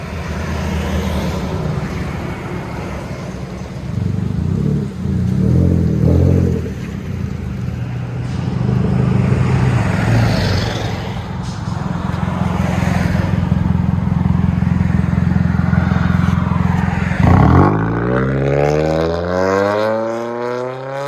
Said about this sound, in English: 2020 Toyota Corolla hatchback, straight pipe with the dual tip.